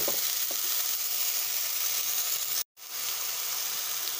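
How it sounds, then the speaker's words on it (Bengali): A spice mixture with onion paste stirred in a hot pan, sizzling and frying steadily with a constant bright hiss and faint scrapes of the spoon, cut off by one brief silent gap. "ভালো করে মিশিয়ে নিচ্ছি"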